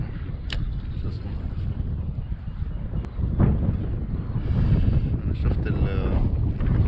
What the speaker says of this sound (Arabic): انا شفت الجو في هواء، بس صراحة متوقعتش هيك يكون